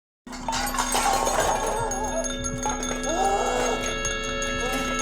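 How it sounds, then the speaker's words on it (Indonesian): A handbell rung by a bedridden, gravely ill mother rings out in repeated bright metallic strokes with lingering tones, set against a steady background hum and faint animal-like noises. "ia mendengar lonceng ibunya berbunyi"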